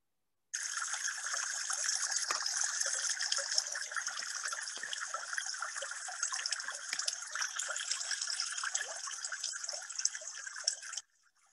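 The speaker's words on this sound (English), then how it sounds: "That's what the fountain would sound like if it was running this time of the year." A fountain's running water pours in a steady, continuous hiss-like trickle and splash, even and unbroken for about ten seconds before stopping abruptly.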